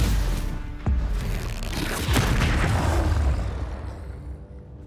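A Confringo fire spell explodes in the Hogwarts Legacy game during a troll fight, a loud booming blast with a whooshing rush that rolls on, swells again and fades over several seconds.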